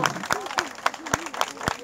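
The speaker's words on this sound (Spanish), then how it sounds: "¡Aplausos, señores, para la colonia Tonal!" A crowd at a neighbourhood festival in Plaza Ferro, Sonsonate, claps for Colonia Atonal in sharp, evenly spaced strokes, with a voice and a tonal sound running underneath.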